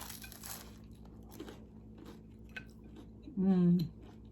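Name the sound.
chewing and biting a breakfast sandwich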